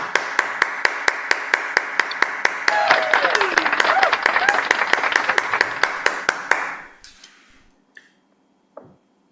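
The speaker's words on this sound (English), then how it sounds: "huge round of applause once again for both of them" Audience at a musical poetry concert applauding the performers, sharp rhythmic claps and a cheer for about seven seconds before fading to near silence, with a brief voice near the end.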